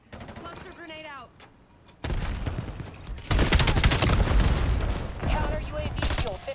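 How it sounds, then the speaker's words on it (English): Cluster grenade explosions boom in a Black Ops 7 match, a dense rapid string of loud blasts and crackling gunfire layered over each other, following a brief stretch of voice chatter. "Cluster grenade out."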